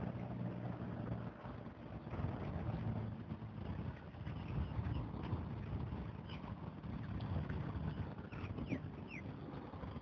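Wind blowing steadily across an open fishing pond, a broad continuous rushing and buffeting against the microphone that stays fairly loud throughout, with no talking.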